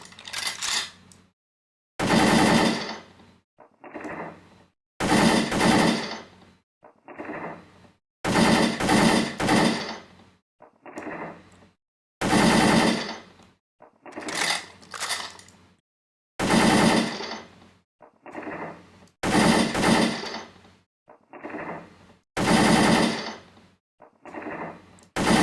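A gun being reloaded by hand in a gun disassembly game, with repeated short bursts of clacking mechanical clicks separated by brief pauses, steady and fairly close.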